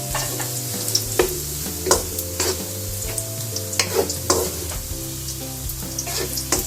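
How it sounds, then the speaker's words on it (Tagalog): Kikiam frying in oil in a pan, prepared for pancit bihon: a steady close sizzle broken by repeated scraping and clacking stir strokes, with a faint tonal tune running underneath. "At yan ang ating kikiam habang pinipirito"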